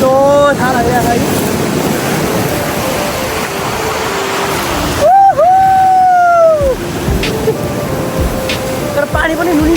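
Sea waves washing in on a shore, a loud steady rush mixed with wind noise, with a brief rising tonal call partway through.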